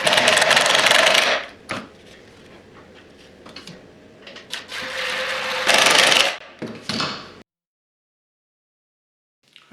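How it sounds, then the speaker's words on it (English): A power driver drives wood screws into a clamped wooden jig part: short whirring bursts with a motor hum and rubbing contact noise, separated by quieter handling, ending in silence. "And drive the screws."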